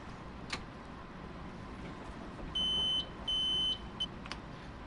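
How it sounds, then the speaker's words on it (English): Electronic ATC warning beeps in Train Sim World 2 on the Harlem Line: two sustained high-pitched tones of about half a second each, back to back, over a steady low cab rumble, with a few short faint blips nearby. "It's another thing you have to do is keep acknowledging those beeps"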